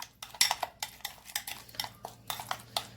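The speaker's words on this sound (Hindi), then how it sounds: "अच्छी तरीके से मिक्स करके" A metal spoon stirs yogurt in a bowl at home, giving a string of quick clinks and scrapes in an uneven rhythm, close and fairly clear, with nobody talking.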